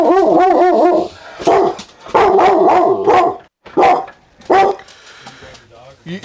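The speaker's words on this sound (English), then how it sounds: "You can't grab the dog." A dog barks and yelps in several loud, close bursts, with people talking around it outdoors.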